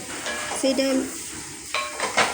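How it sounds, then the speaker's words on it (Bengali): A utensil stirs Korean-style chow mein in a hot pan, with scraping clinks against a light sizzle, close by and moderately loud. "এবার ধীরে ধীরে সুন্দরভাবে ভালো করে নাড়াচাড়া করব।"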